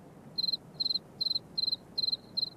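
A cricket chirps in six evenly spaced bursts of rapid pulses, each a bright, clear trill, fairly close against a quiet background.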